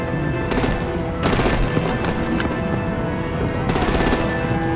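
Rapid gunfire in the video game Batman: The Enemy Within, several loud bursts of automatic shots repeating in quick clusters over a constant droning background.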